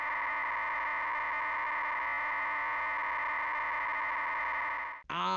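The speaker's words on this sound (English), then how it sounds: "the wonderfully nostalgic sound of a modem" A dial-up modem connection sound played from a WAV file, a dense harsh steady hiss with buzzing tones that holds for about five seconds, loud and alone, then cuts off abruptly.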